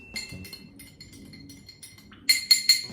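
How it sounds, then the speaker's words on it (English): Metal spoon stirring a lemon juice drink in a glass, soft rattling at first, then several bright clinks against the glass near the end, close by and without talk. "then I stir it with this spoon, which is from somewhere in Greece"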